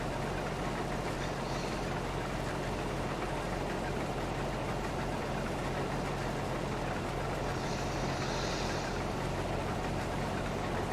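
Mack truck engine in Farming Simulator 22, a steady low rumbling drone held throughout at even loudness with no break or rev change, sounding close and continuous.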